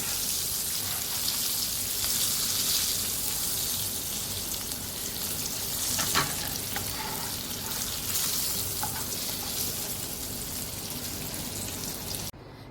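Chicken fries in hot oil with a steady, dense crackling sizzle that holds at an even level throughout, with a few small clinks here and there and no talk.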